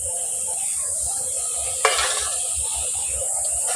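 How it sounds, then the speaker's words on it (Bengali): A spice paste with tomato and water simmers and is stirred in a pan, giving a soft, steady sizzle with a single sharp scrape of a utensil against the pan partway through. "জলটা দিয়ে ভালো করে একটু কষে নিচ্ছি মশলাটা সিদ্ধ হবে"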